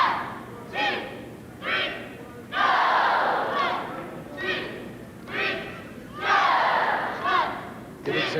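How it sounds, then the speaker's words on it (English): Cheerleading championship crowd roaring "Go" in repeated swelling bursts, several loud rising yells from a large arena audience, each lasting about a second or two, with fuller sustained cheers between shorter shouts. "the crowd yells, "Go," as it gets to the top"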